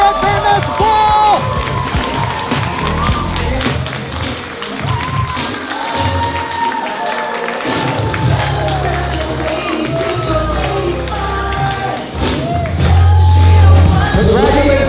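Wedding guests cheer and applaud for the newlyweds, a loud continuous roar of clapping, whoops and excited voices, with music playing underneath the crowd.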